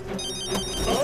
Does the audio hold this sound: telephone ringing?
yes